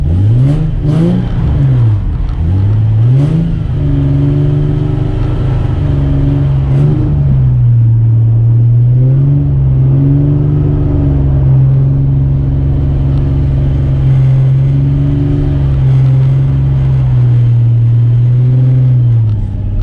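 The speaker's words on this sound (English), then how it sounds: "So we'll do 2 donuts around the cone, and then we'll transition out to that exit cone." Car drifting donuts around a cone at a drift school, engine holding a steady loud drone near 1,000 RPM with wavering pitch as it circles, continuous throughout with no talking.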